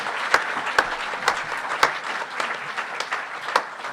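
An audience claps steadily for about four seconds at a live program presentation by a French ecology and solidarity group, a dense, even round of applause with a few sharper individual claps standing out.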